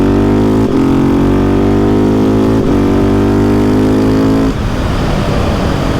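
A 2019 KTM 690 SMC R single-cylinder motorcycle revs hard and loud up close, its engine note climbing through quick quickshifter gear changes with brief dips at each shift.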